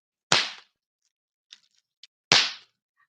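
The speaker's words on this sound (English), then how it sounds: "So our firecrackers might sound like this." Lunar New Year firecrackers go off in two sharp, loud bangs about two seconds apart, each with a brief ragged tail, and a couple of faint small clicks fall between them.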